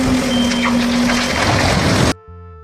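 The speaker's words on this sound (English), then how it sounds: "Truck. This is truck." A reversing truck with its engine running sounds a steady, loud back-up beep over a rumbling motor, then cuts off abruptly into a short musical tone.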